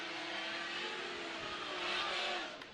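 A Formula Drift car runs off course at the New Jersey round, its engine blaring in a steady, fairly quiet roar that rises slightly near the end, heard alone without voices.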